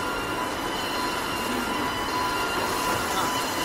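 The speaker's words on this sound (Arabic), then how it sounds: "ها قطار، قطار هذا قطار" A train passing at a factory site, a loud, steady roar of rolling wheels with a thin squealing tone running throughout, close and continuous.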